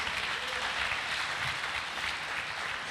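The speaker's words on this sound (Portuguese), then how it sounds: "Dê um aplauso a Jesus" A church congregation claps together in sustained applause, a dense continuous patter filling the room without pause.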